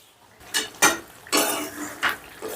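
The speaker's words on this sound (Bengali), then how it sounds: "10 মিনিট বাদে ঢাকাটা তুলে নিলাম।" A lid lifted off a pot of chicken cooking on low heat, a few short metallic clatters and scrapes close by, about four distinct knocks within a couple of seconds.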